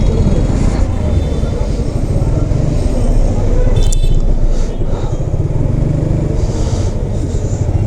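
A motorcycle rides through a road traffic jam, its engine drone loud and close amid the rumble of buses and cars, with brief honks and hisses, while a voice talks over the noise.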